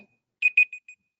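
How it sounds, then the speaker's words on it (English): A small Google smart-speaker timer chimes indoors, four short electronic beeps in quick succession, the first two loudest and the rest fading, with silence around them. "Sorry, I moved the little Google timer."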